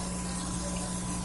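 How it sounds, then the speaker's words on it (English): Cooking spray hisses steadily into a baking pan in one continuous spray, close and fairly loud, with a low hum underneath and no talking. "and then you spray your pan"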